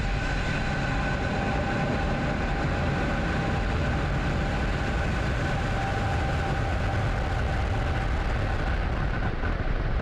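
SpaceX Falcon 9 rocket at liftoff on a Starlink launch, a dense, steady, loud rumbling roar of the engines filling the whole stretch without letup.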